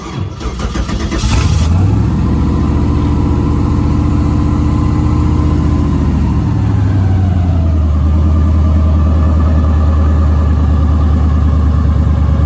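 A car with a swapped LS 5.3 V8 and a Holley Sniper fuel injection setup cranks briefly and fires, revs up, then settles into a loud, steady, low idle close by.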